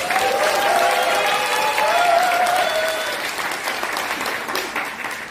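Audience applause fills a hall at a heated Democratic Party reform debate in Seoul, a steady dense wash of clapping from a large crowd that fades slightly toward the end, with faint voices calling out beneath it.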